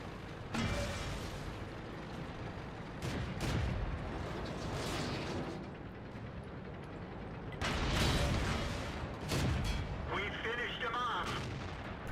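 Artillery fire in World of Tanks, heavy booming blasts at intervals over a constant low rumble of battle, with a player talking over the gameplay.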